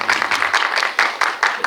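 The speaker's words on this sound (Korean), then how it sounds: "우리 도연 배우님의 빛나는 청춘에 박수 한번" Brief burst of audience applause at a film screening talk event, a crowd clapping steadily and fairly loudly for under two seconds.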